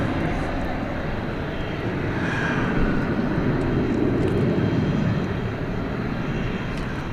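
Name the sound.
MD-11 aircraft pushing back at DFW airport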